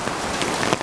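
Heavy rain pours onto an umbrella on a street in Sampaloc, a dense, loud, continuous hiss of drops pattering close overhead.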